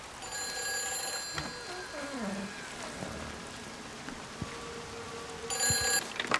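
A telephone ringing in the video game Everybody's Gone to the Rapture, a bright electric ring that sounds, falls silent under soft rain and ambient tones, then rings again.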